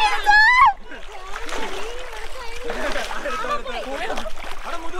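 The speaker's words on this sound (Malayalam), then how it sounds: "ഗായ്സ് എന്റെ കൊച്ചി നീന്തിക്കൊണ്ടിരിക്കുവാണ്." A child swims and splashes in a river, with a sharp splash up front followed by steady sloshing water and paddling, while voices talk over it.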